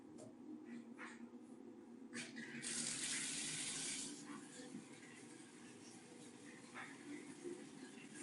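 A shower running in a mobile home bathroom, a steady hiss of water that swells louder for a moment and then settles, with a person talking quietly over it.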